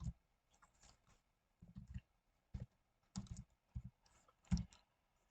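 Keystrokes on a computer keyboard as an IP address is typed in, clustered bursts of clicks with short pauses between them, close and fairly quiet, with no one speaking.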